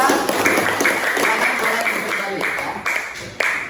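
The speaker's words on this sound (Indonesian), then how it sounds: "kasih tepuk tangan untuk kelompok 3" A classroom of students applauds group 3, scattered clapping carrying steadily for several seconds beneath a teacher's voice and general room chatter.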